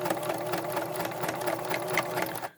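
A Kenmore 14 Series 158 sewing machine stitches a basic straight seam, giving a fast steady mechanical whirring and rapid rhythmic needle clatter, close and fairly quiet, before stopping abruptly at the end.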